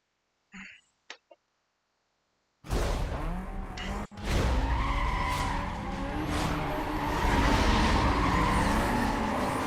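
A race car in Need For Speed Most Wanted launches from a standstill, its engine roaring loudly and steadily with tire skidding, after a few brief faint knocks and a moment of silence.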